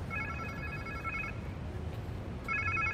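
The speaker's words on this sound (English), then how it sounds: "Sounds like somebody's phone." A phone rings in the Spider-Man 2 video game, two bursts of trilling electronic ringing separated by a pause, partly masked by loud low rumbling game ambience.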